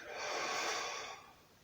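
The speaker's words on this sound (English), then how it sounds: "We're breathing in and going down." Deep breathing during a standing exercise with legs wide apart, one long audible breath swelling and fading, close and alone with no talk.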